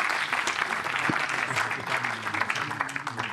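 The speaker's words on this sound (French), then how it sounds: "Merci Isabelle, merci Caroline, on peut les applaudir" Audience clapping after a talk-back meeting in a hall, a steady dense wash of many hands held at even strength throughout, with a brief murmur of voices underneath.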